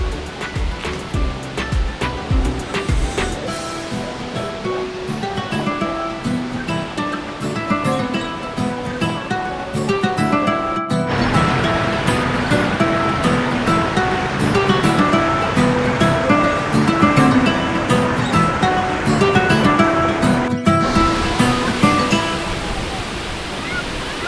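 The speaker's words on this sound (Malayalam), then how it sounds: "ഇപ്പോഴും നമ്മൾ ആ വെള്ളച്ചാട്ടത്തിൻ്റെ അടുത്ത് എത്തിയിട്ടുണ്ട് തൊട്ടടുത്ത് എത്തിയിട്ടുണ്ട്" Water at Palaruvi waterfall near Thenmala pours down from close range in a loud, unbroken roar that swells slightly partway through and holds steady to the end.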